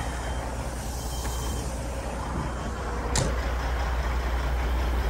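A semi truck idles with a deep, steady rumble as its air suspension is dropped under a trailer, and a short sharp burst of escaping air sounds about two thirds of the way through.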